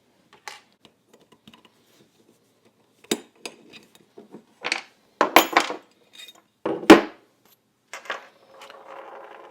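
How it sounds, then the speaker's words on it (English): Small metallic clicks and taps from fitting an extra power Wolff firing pin spring into a 1911 pistol, scattered sharp parts handling sounds, some louder snaps midway, ending in a faint scraping. "Now the extra power firing pin spring, I'm going to go ahead and put that in now"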